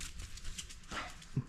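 A puppy in a home or garage setting gives faint, soft dog sounds, with a small yelp near the end and light rustling throughout.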